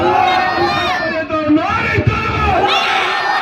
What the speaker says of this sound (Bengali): একটু জোরে আওয়াজ দেন, নারে তাকবীর